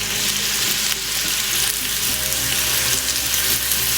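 A single slice of potato frying in a pan for a tomato and cheese sandwich, giving a steady, loud, close sizzle that fills the whole stretch with no voices.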